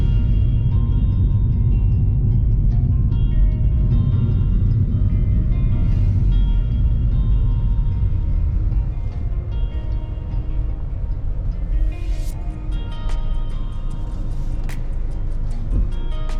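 A Mini Cooper on the road, heard as a steady, loud low engine and road rumble that holds constantly throughout, with a few faint clicks and rattles near the end.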